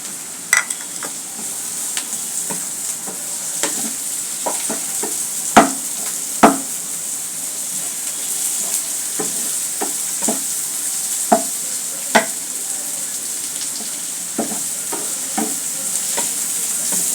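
Chopped onions and garlic sizzle steadily in a hot pan for taro-leaf mash, a continuous close frying hiss broken by frequent sharp clicks and scrapes of a spatula stirring against the pan.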